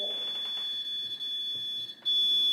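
A beeping electronic cat ball toy in a haunted horror museum gives off a steady, thin, high-pitched electronic tone that holds throughout, fairly quiet in a still room with no talking.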